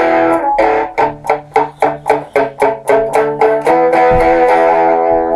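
Electric guitar through a Stiff Hippy II overdrive pedal with the tone control about three-quarters up and the guitar volume lowered, playing a crunchy rhythm of about a dozen evenly spaced chord stabs, each ringing briefly, ending on a sustained chord.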